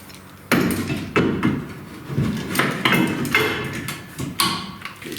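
Hitch installation on a 1973–1997 Ford F-Series truck: a hammer strikes metal to punch holes, giving about six loud, sharp blows at irregular intervals with ringing tails between them.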